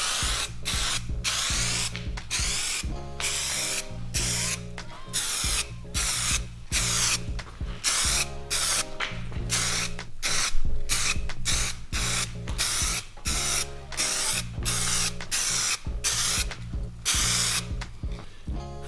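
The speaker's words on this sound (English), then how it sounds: "you're gonna do the blending coats. So one tack coat on all the wheel and 1 or 2 wet coats" Short bursts of spray coating hiss repeatedly as Superwrap is applied to a car wheel in blending coats, loud and close, with brief gaps between passes and no voices.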